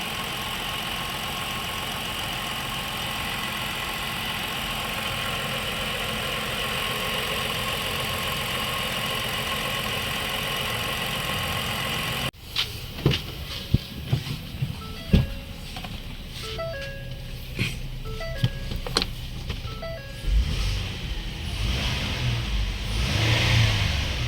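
A Ford Explorer engine that once had coolant mixing into its oil runs steadily, first as a smooth even hum, then as a nearer idle with scattered clicks and knocks, with no one talking.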